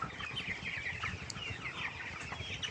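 A flock of tiger-breed chickens clucks continuously on a farm, the calls soft and overlapping against a low background hum.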